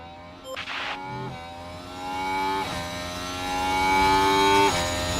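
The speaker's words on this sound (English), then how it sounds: "As you hear the engine derating." An F1 car engine derates at the Great Britain race in an F1 Manager 2026 mod. A whining, harmonic engine tone drifts in pitch as the power fades, with brief passing engine swells from other cars.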